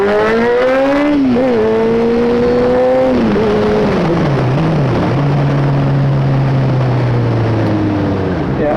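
2012 Honda CBR600F motorcycle engine holding a steady loud drone, rising briefly then settling into lower sustained revs with slight wavering, close and continuous.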